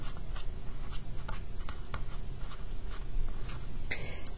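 Pen or pencil scratches along paper while a math problem is written out by hand. The faint, close strokes come in irregular quick bursts over a steady low room hum.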